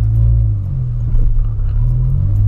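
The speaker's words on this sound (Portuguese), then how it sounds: "Eu coloquei o escapamentão esportivo nele, ficou muito top demais" A Volkswagen Polo sedan fitted with a large sport exhaust idles close by, a loud deep low rumble with slight swells in engine tone, steady throughout.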